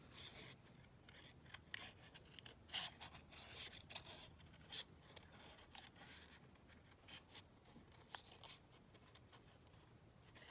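Scissors snip through painted paper puzzle pieces in a faint, close, irregular series of crisp cuts and rustles, with no talking.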